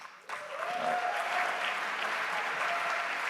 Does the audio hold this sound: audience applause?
yes